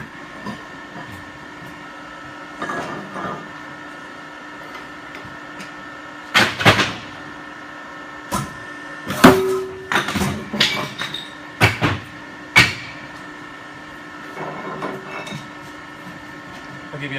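A CP90-40T-B stone recycling machine runs with a steady droning hum, broken by a cluster of loud clanks and knocks in the middle that fade back to the running drone.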